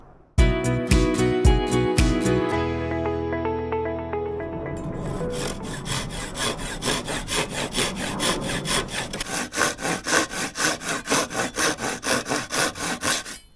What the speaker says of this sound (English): here I am trimming the edges to make space for the cross beams